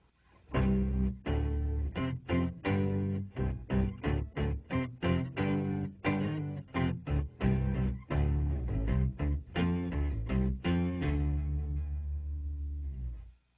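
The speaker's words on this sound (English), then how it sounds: "we're going to get kind of a great bass sound" Deep, heavy bass-like guitar notes through an Electro-Harmonix Micro POG sub-octave pedal, played in a steady rhythmic pattern, each chord thick with low end, ending on a long sustained ring.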